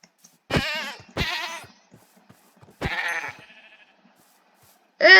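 A goat in the Minecraft video game bleats in several short, wavering calls, three close together, a pause, then another, loud and alone against silence.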